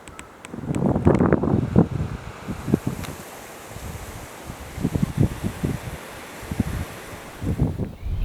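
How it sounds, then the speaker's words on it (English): Strong, blustery wind gusts across open bush country on a safari drive, buffeting the microphone in loud, uneven bursts between quieter stretches of rushing air. "It is very, very blustery, as you can probably hear and see."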